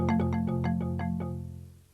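A marimba sound triggered on a Marimba Lumina electronic mallet controller plays a quick run of about eight bright, woody tones, each struck note ringing briefly and fading, close and clear with no talking.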